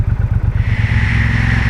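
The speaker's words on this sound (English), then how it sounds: "Good sounding bike. That's dead stock. Dead stock exhaust. It sounds great." A Triumph Bobber Black motorcycle on its stock exhaust revs hard, its deep engine note pulsing at first and then settling into a loud, steady high-rev drone, close by with no voices.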